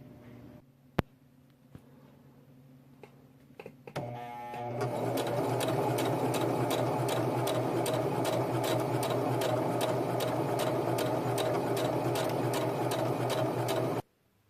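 A sewing machine runs a shirt seam for a World War II Assassin's Creed cosplay, starting after a few clicks and then droning in a fast, even, loud stitching rhythm for about ten seconds before it stops abruptly.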